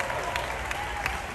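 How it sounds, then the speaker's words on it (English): Short burst of dense audience applause at a D23 Marvel Studios presentation, steady and fairly distant, with faint crowd noise. "Give yourselves a round of applause for showing up."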